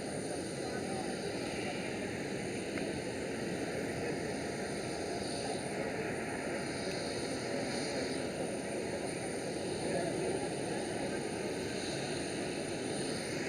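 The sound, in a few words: Boeing 737 aircraft after landing at Amsterdam Schiphol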